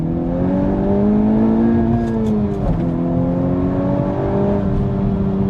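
Honda Civic Type R engine with VTEC, a steady close drone with rising and falling revs and a short dip midway, then climbing again, with no voices over it.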